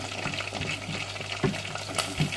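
Garlic sautéing in oil in a Teflon pan gives a steady, close sizzle with a few scraping stirs and soft clicks scattered through it. No one speaks.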